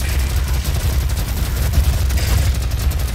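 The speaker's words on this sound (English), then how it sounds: "Chain gun puts in work" A chain gun in DOOM fires a dense, continuous stream of rapid shots, loud and close, with no pauses across the burst.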